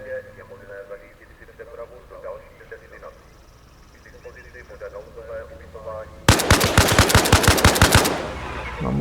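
Arma Reforger gunfire: a loud, rapid burst of automatic shots erupts near the end, following a stretch of quieter talk and background sounds.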